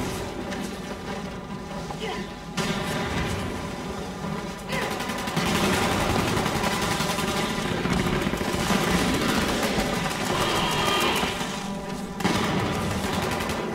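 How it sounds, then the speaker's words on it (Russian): Dense, continuous gunfire in Fallout 76 rattles on without pause, layered bursts forming a loud, steady wall of shots, with fireworks launched and faint voices now and then underneath. "Сплошная стрельба."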